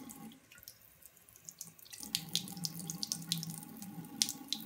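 Tap water runs steadily into a sink during a waterproof test of lip and eye liners, starting softly then growing louder and splashier after about two seconds, with no talking.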